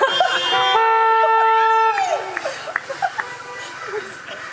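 Car horns honk outside a wedding reception, sounding as long sustained tones for about two seconds before cutting off, followed by quieter scattered sounds that may include voices.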